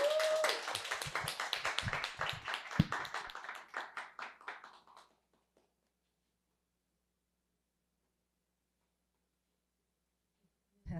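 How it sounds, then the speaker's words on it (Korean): A church congregation at a Sunday invitation service claps in welcome for a visiting missionary. The crisp, lively applause lasts about five seconds, then thins out and fades into silence. "우리 큰 환영의 박수 부탁드리겠습니다."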